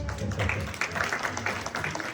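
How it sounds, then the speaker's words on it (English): Workshop attendees at a qigong session clap for Harmony, a dense, lively round of applause at moderate volume, carrying on steadily to the end. "give her a round of applause"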